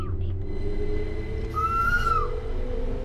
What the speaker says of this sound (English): I've heard that whistle from the TS Classic version